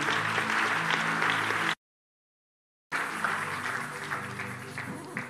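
A church congregation applauding, a dense continuous wave of clapping with crowd murmur, broken by a short silent gap before the applause resumes and slowly fades.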